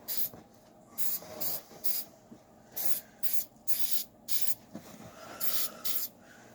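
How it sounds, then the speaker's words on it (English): Short repeated hissing bursts of spray paint, flat white, applied to a Ford Thunderbird scale model, about ten close, sharp puffs with brief pauses between them. "But that's what happens when you use spray paint."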